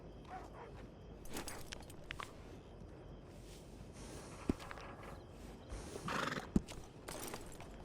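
A horse in Red Dead Redemption 2 whinnies and snorts while its hooves clip-clop at a walking pace. The sound is fairly quiet and close, with a couple of sharper hoof knocks near the end and no talking.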